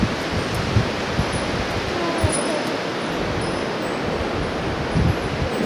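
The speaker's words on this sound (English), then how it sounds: "You can hear the wind howling." Strong wind roaring over a lake with whitecaps before a tornado, a dense continuous rush buffeting the microphone, loud and unbroken throughout.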